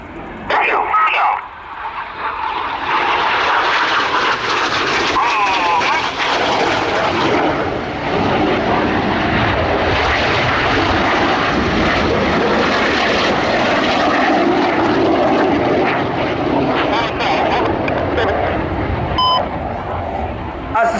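RAF Red Arrows jets fly a display at RIAT 2024, with opposition passes and barrel rolls by the synchro pair; a loud, sustained jet roar swells and fills the air while a commentator talks over it throughout.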